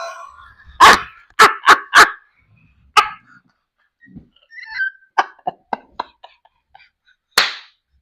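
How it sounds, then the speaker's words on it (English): Dogs give a run of loud, close barks and yips in short separate bursts, some quick and doubled, with quiet gaps between them and no talking. "the dogs came up here"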